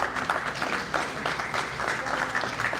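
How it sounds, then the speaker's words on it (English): Audience applause at a Ward 2 community input meeting for a city master plan, a steady patter of clapping from a modest indoor crowd lasting the whole moment with no talk over it. "you obviously deserve a round of applause for showing up and caring about your community"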